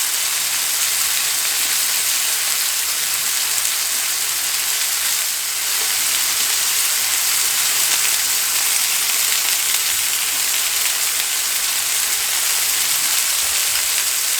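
Garlic butter pork chops frying in a cast iron skillet, a steady, dense sizzle that runs without pause for the whole stretch, close and fairly loud with no talking.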